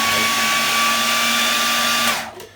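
A food processor chops curry paste ingredients for a Malaysian chicken curry: a loud, steady motor whine runs close by for about two seconds, then cuts off and winds down quickly.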